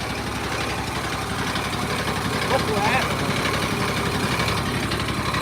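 A pressure washer engine runs continuously at a steady throttle, a dense rumbling drone with constant vibration and no pauses.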